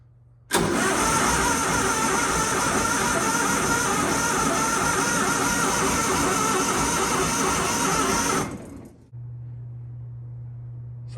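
An old Ford Model T roadster with the choke on and a gummed-up carburetor cranks hard and turns over in a loud, steady run of about eight seconds, then cuts off to a low hum.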